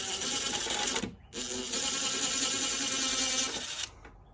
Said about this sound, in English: Phillips head screwdriver or drill with Phillips